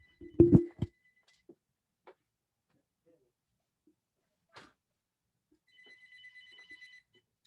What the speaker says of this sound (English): Hold on 1 second, my phone ringing.